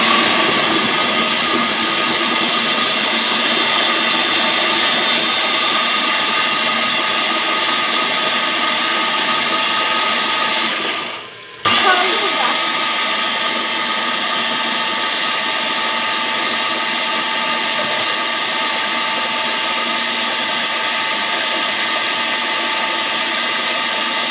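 An electric mixer whisks dessert ingredients in a home kitchen, giving a loud, constant motor whir that briefly dips and stutters partway through before resuming at the same steady pitch.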